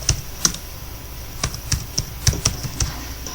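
Computer keyboard typed on while a password is entered during Primavera P6 software installation, giving sparse, irregular clicky keystrokes close to the mic, about ten taps spread unevenly with short pauses between them.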